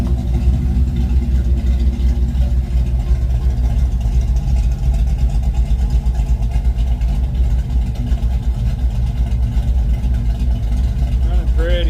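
A 1972 Ford Mustang Mach 1 engine idles steadily after carburetor and timing tuning, a low continuous rumble close by, with a person speaking over it.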